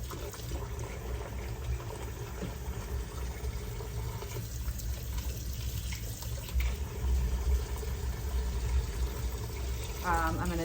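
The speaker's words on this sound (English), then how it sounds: "I'm going to rinse all of this." Tap water runs steadily over a rolling pin and half-inch markers being rinsed in a kitchen sink, a continuous close splashing rush with a few clatters and a brief squeak near the end.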